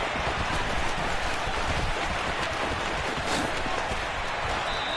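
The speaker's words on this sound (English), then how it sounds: "The rain set to continue as we are underway in the second half." Steady rain pours over an outdoor stadium during the second half of an American football game, a dense broadband hiss filling the whole span, loud and unbroken, with faint crowd noise beneath.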